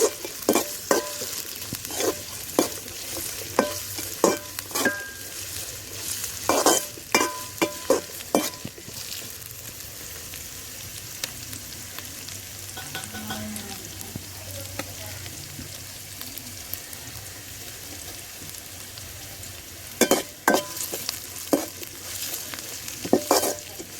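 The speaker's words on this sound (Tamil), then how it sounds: "அது கூடவே சேர்த்து கீறி வச்சிருக்க பச்சை மிளகாயும் ஆட் பண்ணுறோம். ரெண்டையும் சேர்த்து நல்லா வதங்குற அளவுக்கு நல்லா மிக்ஸ் பண்ணி விடுறோம்." Slit green chillies stirred and sautéed in a pan for goat liver pirattal, with steady oil sizzle under repeated sharp spoon scrapes and clinks against the pan, pausing midway and resuming near the end, no voices.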